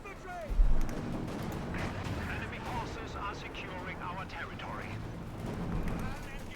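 Tank cannon fire from the real-time strategy game Company of Heroes 2, with a heavy low boom near the start over continuous battle noise and commentary.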